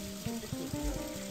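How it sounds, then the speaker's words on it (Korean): Small trickling Sutaegol waterfall on a mountain trail, a steady soft wash of falling water with a few louder splashing pulses, fairly quiet and continuous throughout with no voices. "10분을 더 올라가면 있는 졸졸 흐르고 있는 수태골 폭포"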